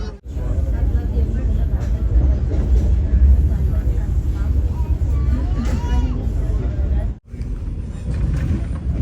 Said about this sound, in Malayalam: കസാറ റെയിൽവേ സ്റ്റേഷനിലേക്ക് നമ്മുടെ ട്രെയിൻ എത്താനായി